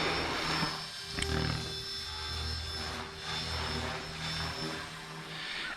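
A Blade 330S RC helicopter flies steadily during a maiden flight, its rotor and motor giving a continuous buzzing whine with harmonic tones that shift in pitch as it maneuvers, with no talk.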